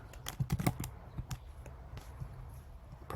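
Quick bursts of computer keyboard typing, close and crisp, a rapid cluster of keystrokes followed by a few scattered taps over a soft background.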